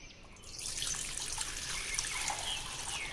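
Water is poured steadily into a lemon drink mixture, giving a continuous trickling splash that starts abruptly and runs on with no talking.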